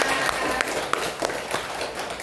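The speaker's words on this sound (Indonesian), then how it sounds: "beri tepuk tangan dong kepada Kak Ima" An audience claps for a presenter at a constitutional-rights outreach session held in an orphanage, a brisk, close round of hand claps with scattered sharper slaps, lasting a couple of seconds.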